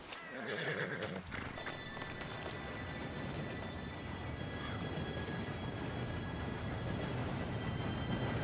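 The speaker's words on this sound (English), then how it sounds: "Train should be here any minute now." A train arrives in the Western game Red Dead Redemption 2 with a steady rumbling roll of rail noise. Horse hooves clip-clop and a horse whinnies close by at the start. The clip is continuous and fairly loud, with no voices.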